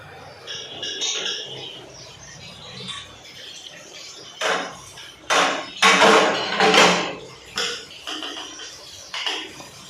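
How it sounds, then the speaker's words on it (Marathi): Household pots and dishes are scrubbed by hand on a bathroom floor. It starts quietly, then several loud, close bursts of rough scraping and clattering follow in an irregular rhythm. "चला आता मी घासाला घेते बाथरूममध्येच घेते"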